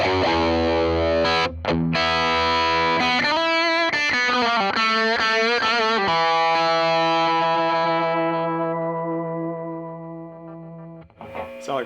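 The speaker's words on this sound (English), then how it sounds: "the Soul Food, the Electro-Harmonic Soul Food. It's easily the most inexpensive pedal that we're testing today." Electric guitar played through an Electro-Harmonix Soul Food overdrive pedal, warm driven chords and a quick run of picked notes ringing out, then a long sustained chord fading away, loud and alone.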